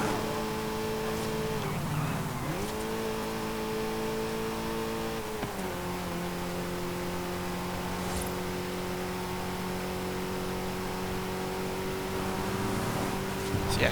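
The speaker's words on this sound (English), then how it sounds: "just listen to it for a moment, because it does sound like kind of like an old school rally car" A 1967 Renault 8 Gordini's engine in Forza Horizon 5 revs hard in a steady, raspy drone like an old rally car, with sharp pitch dips at each gear change, close and continuous.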